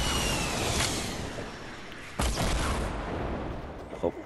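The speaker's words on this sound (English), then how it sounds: "Who's throwing grenades?" Grenade explosions in the Fortnite video game: a broadband gunfire-like din with a sharp, booming blast just past the midpoint and another short burst near the end.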